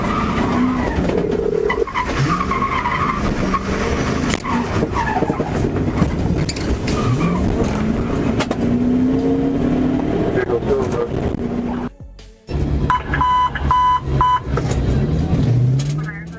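A Dodge truck fleeing a Florida Highway Patrol car on a bridge roars with a loud, sustained engine and tire noise, a brief cut near the end, with a narrator's voice running over it.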